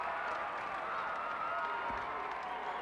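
A crowd at a 2004 girls state basketball championship in a gymnasium applauds steadily, with dense continuous clapping filling the hall at an even loudness throughout.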